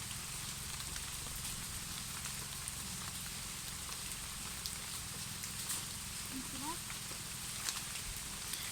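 Rain falling steadily at a rural catfish farm, a soft continuous hiss of drops on surfaces, faint and even, with occasional quiet background voices.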